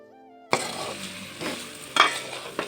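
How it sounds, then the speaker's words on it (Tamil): Ground fenugreek and mustard powder stirred into hot oil for a gooseberry pickle, a soft sizzle starting abruptly with a few sharper scrapes of the spoon against the pan, close and moderately quiet. "சேர்த்து நல்லா கிண்டி விட்டுக்கணும்"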